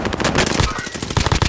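Rapid automatic gunfire rattles in dense, close bursts from a battle royale video game, with a brief lull midway before the firing picks back up.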